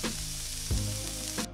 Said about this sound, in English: Lay the steaks away from you and let the pan do the work. That sizzle is what you want to hear.